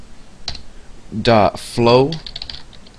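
A computer keyboard being typed on briefly during a Java programming lesson, a few light clicks near the start and end while someone speaks clearly over them.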